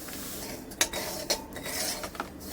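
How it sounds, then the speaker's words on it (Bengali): Semolina being dry-roasted in a pan on a wood fire, stirred with a metal utensil that scrapes and clinks a few times against the pan, close and fairly soft, no voices. "প্রথমে আমি সুজি ভেজে নিচ্ছি"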